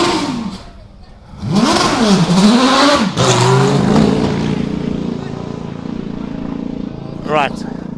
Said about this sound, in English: then they will fire the car up and off he will go